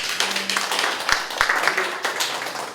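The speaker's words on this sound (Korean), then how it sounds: "박수 한번 쳐주십시오" An audience claps at a union branch lecture on survival strategy, a scattered round of hand claps rising and falling for a few seconds with a couple of sharper individual claps standing out.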